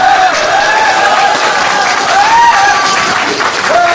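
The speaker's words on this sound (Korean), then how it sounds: "뜨거운 박수와 열렬한 함성으로 여러분 맞이해 주십시오" A crowd at a Korean political candidate's announcement event applauds and cheers loudly and continuously, dense clapping filling the room with whoops and shouts rising over it.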